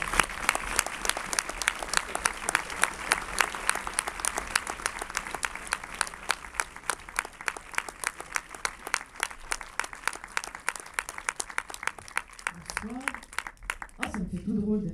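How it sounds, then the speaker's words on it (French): Cinema audience at a film premiere in Saint-Jean-de-Luz applauding to welcome actress Isabelle Huppert, sustained dense clapping with some rhythmic unison, a voice speaking briefly near the end as it fades. "Merci d'applaudir Isabelle Huppert."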